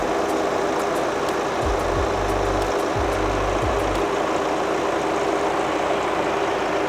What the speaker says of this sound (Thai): นี่ครับเครื่องยนต์เงียบนิ่งมากๆครับ ผมไม่ฟังเสียงเครื่องยนต์นะครับ